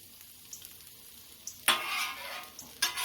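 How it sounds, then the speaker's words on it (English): Onions caramelizing on a griddle, a quiet low sizzle broken by short spatula scrapes and two louder bursts of frying as the onions are turned, close and clear. "I'm going to go ahead and get in with these onions here. They're getting nice and soft. They're caramelizing up pretty good."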